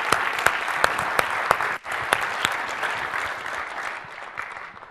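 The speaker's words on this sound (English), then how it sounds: "I want to have a round of applause for." A conference audience gives the panel a round of applause, starting with a few sharp individual claps that swell into full, fairly loud clapping and then slowly fade.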